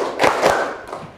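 A few hand claps in a counted rhythm during a classroom arithmetic lesson, two close sharp claps followed by a softer one, heard close and with nothing else around them.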